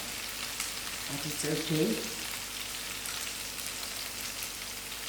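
Onions softening in a frying pan while making hot and spicy chicken livers, giving a steady, close sizzle throughout, with a brief spoken phrase partway through.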